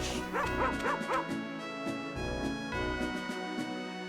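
Dog barking in a post-credits cutscene of the video game Save the Homeland: a quick run of sharp barks followed by several spaced single barks, set over steady synthesized game music.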